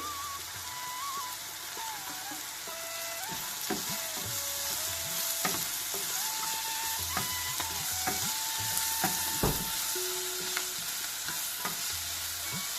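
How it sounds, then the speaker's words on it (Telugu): Sliced onions frying in a pan until light golden, a continuous sizzle with repeated metallic scraping and clicking of a spoon stirring against the pan, close and steady. "లైట్ గోల్డ్ కలర్ వచ్చే వరకు మగ్గపెట్టుకోవాలండి ఉల్లిపాయలని."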